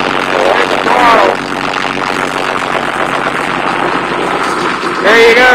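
A straight-piped CAT 3116-TA turbo diesel in a 1997 Thomas MVP-ER bus roars loudly and steadily after a cold start, its pitch swelling in two brief revs near the start and end.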